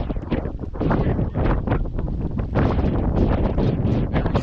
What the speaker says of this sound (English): A bunch of wind came in